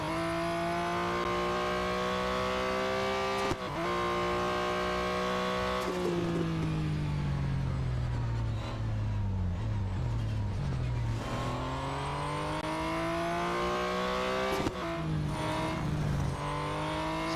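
Race car engine in the Real Racing 3 video game drones continuously at high revs, pitch rising and falling through gear changes and braking with brief shifts, loud and steady throughout with no talking.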